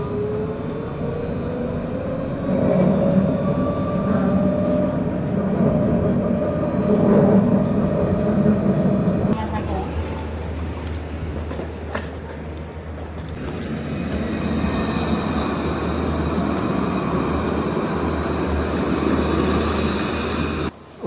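Lyon T6 tram running, a steady low rumble of wheels and motor with a shift partway through as the car moves between stops, continuous and fairly close, with no talk over it.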